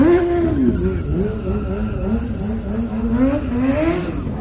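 Full-size sport motorcycles, 600cc bikes and a 1000cc Kawasaki Ninja, revving hard, the engine pitch swooping up and down in repeated throttle blips, close and loud throughout.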